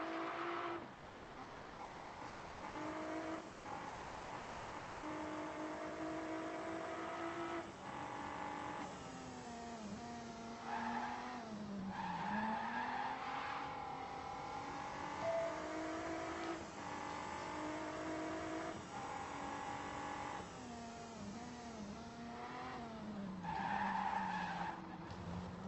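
Race car engine from the RACECLUB video game revving hard through a hot lap, pitch rising and falling with gear changes, with tire squeal and skidding through corners, loud and continuous without talk.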